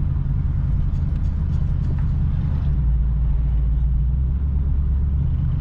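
A 1977 Ford Ranchero engine runs steadily while the truck drives, a low constant rumble with a slight rise in revs near the start, heard from inside the cab with no talking.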